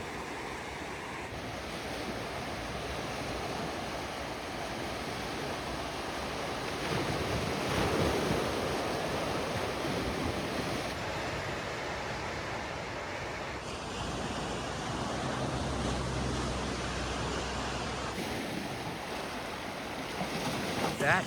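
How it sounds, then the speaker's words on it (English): Ocean surf washes steadily onto a Vancouver Island shore after the tide came in close, a continuous broadband roar with gentle swells and some wind, heard alone without talk. "so nice sleeping to the sound of the waves and crashing the shores this morning"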